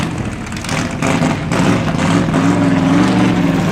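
A Porsche 911 race car engine runs steadily at a 1968 Australian Touring Car Championship event, a loud, close, continuous drone that swells slightly as it revs, with no voices over it.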